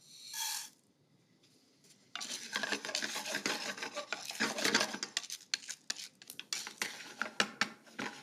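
Dal roasting in oil in a pan, stirred with a metal spoon, giving close, busy scraping and clinking against the pan over a low sizzle after a brief initial clatter and pause.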